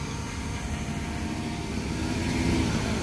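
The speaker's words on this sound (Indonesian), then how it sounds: "Drone akan turun lurus di mana dia posisi terbang." An MJX B20 EIS 4K drone descends on auto landing, giving off a steady broadband rotor whir that runs continuously and grows slightly louder toward the end.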